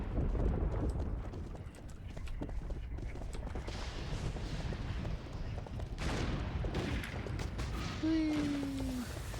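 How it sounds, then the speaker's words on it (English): Horse hooves galloping fast in the RIFT video game, a rapid steady clip-clop with game effects and faint talk underneath. "This horse is so fast."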